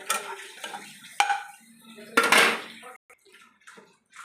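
Whole spices and panch phoron stirred in a pan for a tangy-spicy pickle, with sharp metallic spoon-on-pan clatters and scrapes in irregular bursts over a faint background; no clear sizzle.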